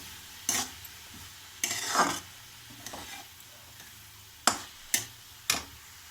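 A spoon scrapes and taps against a pan as salt, chilli powder and turmeric are stirred into a meal maker curry, giving a few soft strokes and then three crisp, evenly spaced clicks over a faint sizzle.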